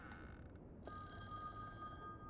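A telephone rings in The Wolf Among Us video game, one faint, quiet electronic ring tone that starts partway through and holds steady over a low background hum.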